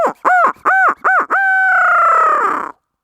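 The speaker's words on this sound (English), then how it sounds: "This is a reeded owl call." A reeded owl call, used to make turkeys shock gobble, is blown in three short hooting bursts followed by a longer drawn-out hoot that trails off, loud and close with no talking.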